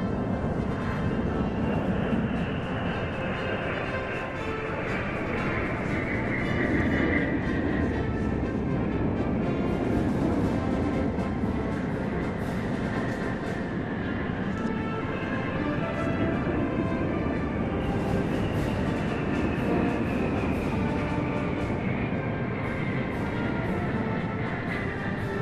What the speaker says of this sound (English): An H-6K can travel thousands of kilometers and strike an enemy with precision-guided bombs or air-to-surface missiles.